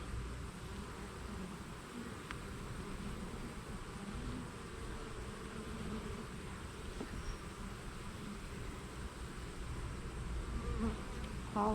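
Honeybees buzz steadily around an open hive as frames are inspected, a dense, even insect drone close by throughout with no talk over it.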